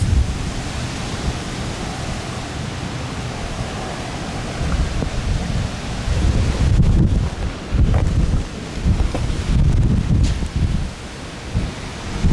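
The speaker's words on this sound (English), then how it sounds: "The wind is blowing these trees the rest of the way down and blowing debris around." Strong wind roars through trees and scattered debris after a tornado, a loud, continuous broadband rush buffeting the microphone, swelling and gusting harder in the second half.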